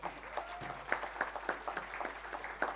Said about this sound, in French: Donc, je vous demande d'applaudir Nathalie, qui va commencer.